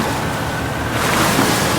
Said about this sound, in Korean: 성난 파도가 배를 덮쳤어요.